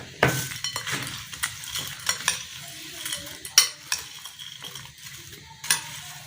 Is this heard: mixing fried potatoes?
yes